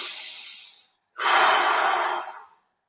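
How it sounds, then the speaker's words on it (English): Two deep breaths during a seated or standing sensory circuit exercise: a soft inhale fading out, a brief pause, then a louder, longer airy exhale, close and alone. "Deep breaths."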